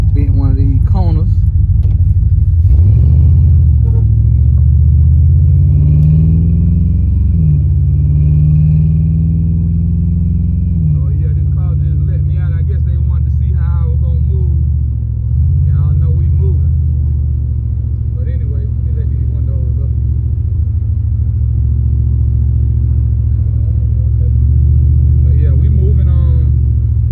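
The engine of a 1987 Chevrolet Monte Carlo SS rumbles steadily while driving, with a deep, continuous low drone and brief swells as it revs, heard close from inside the car with occasional talking over it.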